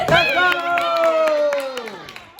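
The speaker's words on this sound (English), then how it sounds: "join me in giving a round of applause for the players of the Big Buddies beach volleyball team" A banquet crowd applauds a beach volleyball team, clapping throughout while a loud voice calls out over it, both fading toward the end.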